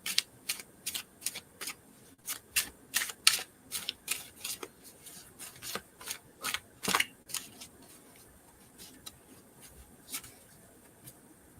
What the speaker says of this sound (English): I'm going to shuffle just a bit before I split the deck